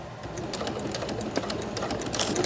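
A sewing machine stitches fabric for a sandwich wrap or snack pouch, giving a steady, rapid mechanical whir with light ticking pulses that runs evenly throughout without pause.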